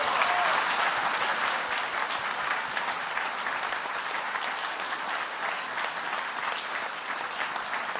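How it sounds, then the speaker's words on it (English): Continuous audience applause at the Ig Nobel awards ceremony, a dense wash of many hands clapping at steady volume, heard from within the hall and slightly fading toward the end. "please give them a square of applause"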